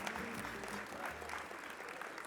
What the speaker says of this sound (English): big round of applause, you guys